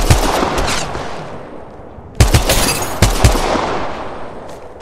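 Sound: gunfire in the video game Apex Legends Mobile

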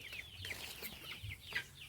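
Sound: chickens clucking

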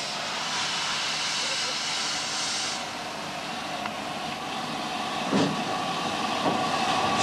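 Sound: colliery steam locomotive struggling up a gradient with trucks

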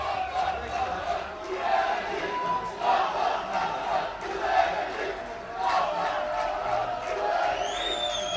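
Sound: Cizre Spor fans chanting in stadium

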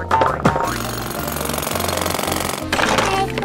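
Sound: drilling into a toy gold bar

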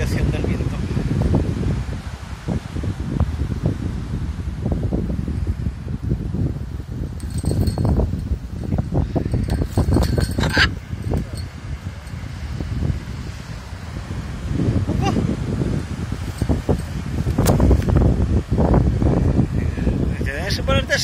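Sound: strong wind on a coastal trail

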